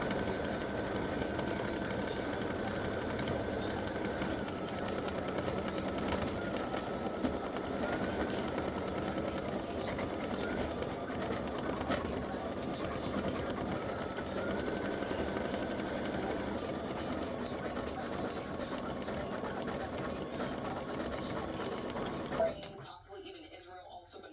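An embroidery machine stitches an applique design, a steady mechanical whir and rapid needle chatter running continuously before cutting off near the end.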